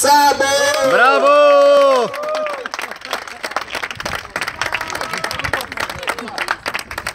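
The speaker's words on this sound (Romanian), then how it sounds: "vă rog frumos să-l primim cu aplauze" Spectators at a national supermoto race applaud a young rider, scattered clapping and cheering following a loud rising-and-falling tone at the start, with voices mixed into the crowd noise.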